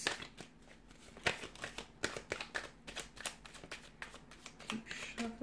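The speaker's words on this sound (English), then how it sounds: "Keep shuffling." Tarot cards are shuffled by hand in repeated crisp riffles and flutters, close and fairly quiet, with irregular bursts of slapping card noise.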